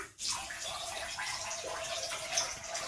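Water runs and splashes steadily and close by throughout a baby's bath, with no talking heard.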